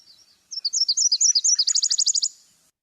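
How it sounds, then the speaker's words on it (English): A Nashville warbler sings its two-part song: a run of sweet, high, slightly slurred paired notes, then a faster, tighter trill at the end, clear and close against a quiet background. "Yep, Nashville warbler."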